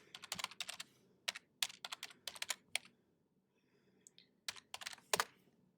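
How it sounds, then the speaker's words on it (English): Keystrokes on a computer keyboard come in several quick bursts of close, crisp clicks with short pauses between them, loud and alone in a quiet room. "Oh, I have to type in my stuff."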